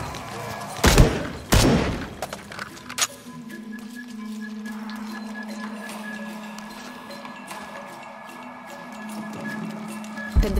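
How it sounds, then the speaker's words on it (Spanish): Explosions in the Shadow of the Tomb Raider video game, fired to raise a platform: two sharp loud blasts early on, then a sustained rumbling hum with scattered crackles and debris. "Necesito una explosión para elevar la plataforma."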